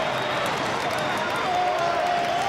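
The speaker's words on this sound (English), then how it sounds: "look at the applause from the crowd" A crowd at the London Sevens 2009 rugby final, England against New Zealand, applauds steadily in a dense, continuous wash of clapping and cheering, while a commentator talks over it.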